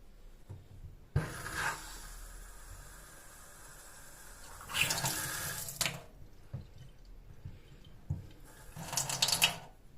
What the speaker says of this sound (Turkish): Evet suyumuzu açtık.